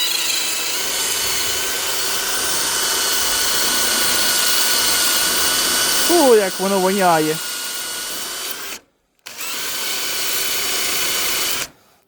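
A cordless drill whirs steadily for several seconds while sanding a meteorite, with a brief rising motor rev midway and a short silence, and a voice speaks over it.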